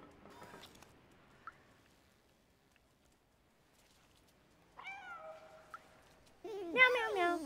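A cat meows in the Stray video game, a few clear, drawn-out meows separated by quiet gaps, the last one loud and close.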